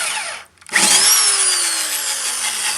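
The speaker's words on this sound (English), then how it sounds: "Hey, this is a good drill though." A cheap electric drill bought secondhand for five dollars whirs up loudly after a brief pause, a steady high motor whine with a slowly falling tone, held close and running alone.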